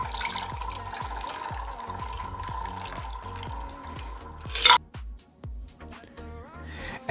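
A shaken mocktail is poured through a cocktail strainer over ice into a glass, a steady close splashing trickle with faint clinks of ice, ending in a brief sharp rattle and a few settling clinks.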